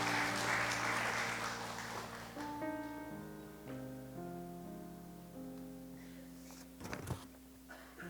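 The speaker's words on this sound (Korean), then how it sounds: "우리 박수 하겠습니다." A church congregation at a Korean Friday prayer meeting applauds a testimony-giver: loud broadband clapping for the first few seconds fades out beneath sustained keyboard chords, followed later by a brief bump of handling noise.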